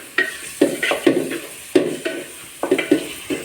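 A ground spice mix is stirred in a frying pan with a series of loud, close utensil scrapes and clinks, about two each second, over a faint sizzle with no voices.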